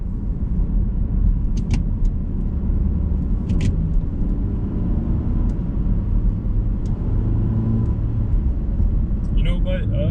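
A 2009 Nissan Altima Coupe with a six-speed manual cruises in sixth gear at highway speed, giving a low, steady engine and road drone with a voice talking over it.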